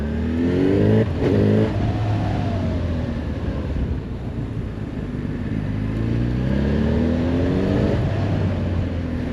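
A 2025 Honda CB1000 Hornet SP naked motorcycle engine revs and drones steadily while riding, its pitch climbing and falling through repeated accelerations, loud and close throughout.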